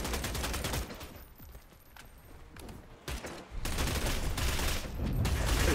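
Gunfire in the video game Bloodhunt: dense, rapid bursts of shots, loud and close, with a short lull in the middle before heavy firing resumes and continues to the end.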